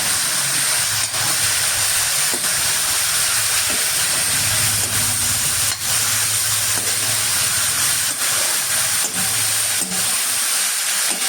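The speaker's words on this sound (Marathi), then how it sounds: "फोडणीवर चांगलं परतून घ्यायच्या भाज्या" Loud, continuous sizzling hiss of chopped vegetables frying in a hot oil spice tempering, close up, with occasional soft clinks of a utensil.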